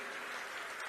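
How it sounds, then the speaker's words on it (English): Rally crowd in Dubuque, Iowa applauding Governor Terry Branstad, a faint, distant, even wash of clapping with no clear individual claps. "Would you just give him a round of applause?"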